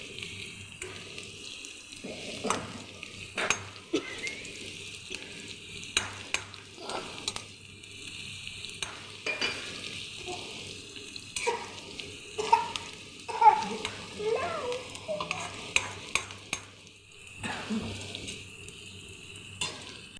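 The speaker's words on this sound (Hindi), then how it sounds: "ये हमारी मिर्चें लाल होने लगी हैं, या फ्राई होने के करीब पहुँच चुकी हैं" Chillies fry in a pan for daal chawal with a steady soft sizzle. Light stirring scrapes and utensil taps run throughout, fairly quiet and close, with no talking.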